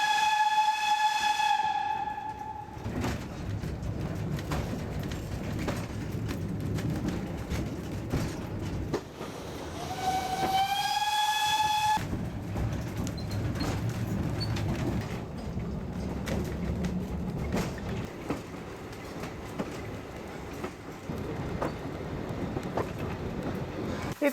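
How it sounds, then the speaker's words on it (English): A restored steam train drawn by a 1949 locomotive runs along a line through a glacial forest valley in Denmark, sounding a loud whistle twice over the continuous rumble and clatter of wheels and carriages. "a restored steam train for a half-hour ride along the line"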